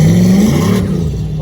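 A turbocharged 6.0 LS V8 in a van with a 4L80E transmission revs loudly, a steady low engine drone that shifts pitch partway through, with a voice speaking over it.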